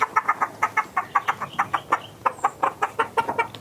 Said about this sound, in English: You can hear the rooster.